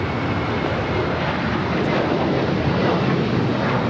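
A United Airlines Boeing 737-800 takes off from Los Angeles LAX, a steady, loud broadband engine roar that holds constant throughout, close and sustained with no voices over it.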